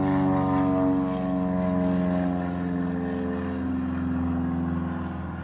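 A propeller airplane drones overhead near an airfield. It is loud at first, then steady and slowly fading, with a smooth engine hum and no voices.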